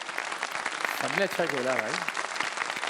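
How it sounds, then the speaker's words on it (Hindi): Studio audience at a Ramadan TV quiz show applauds in a dense, continuous patter of clapping while a voice speaks briefly over it. "बजा दें तालियां"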